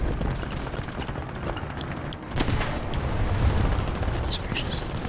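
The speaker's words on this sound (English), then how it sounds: "now they're shooting me from that side" Enemy gunfire aimed at the player's tank in a video game: a dense, noisy battle din with a sharp crack or blast partway through and steady rumbling fire afterward.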